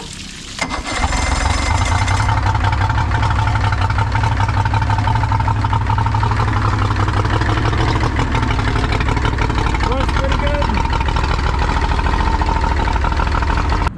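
An outboard boat motor, just back from a carburetor repair with its air box reinstalled, cranks briefly and then catches, settling into a loud, steady close-up running drone with a constant low rumble that continues to the end.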